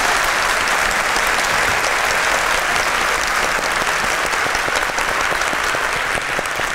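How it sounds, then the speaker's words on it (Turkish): A live studio audience at a Turkish open-mic talk show bursts into dense, sustained applause, loud and continuous for the whole stretch with no talk over it. "Lütfen alkışlar mısınız?"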